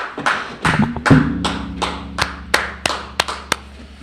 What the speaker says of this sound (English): Christ, clap it up